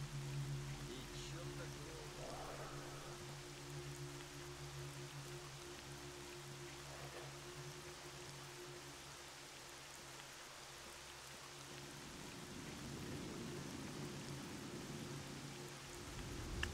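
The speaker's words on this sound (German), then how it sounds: "Vor allem mit dem Regen. Sehr atmosphärisch." Rain hisses in S.T.A.L.K.E.R.: Shadow of Chornobyl, a constant soft wash over a low hum, swelling slightly toward the end, with no speech.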